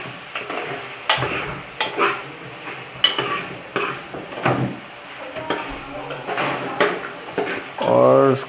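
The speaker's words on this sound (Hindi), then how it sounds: "थोड़ी देर हम इसको और चलाएंगे, हल्का सा इसका मसाला सौते करेंगे" Masala with chili, coriander, cumin and black pepper sautéing in a pan, heard as a close sizzle under repeated scraping and clattering stir strokes, with the utensil knocking against the pot.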